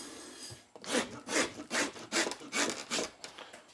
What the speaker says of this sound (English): A block of cedar or pine on a traditional Upper Bay decoy body lathe.